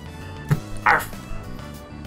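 A dog barks in the video game Persona 3 Reload, one short yip followed by a louder, brighter bark, close and clear over a steady low game music bed.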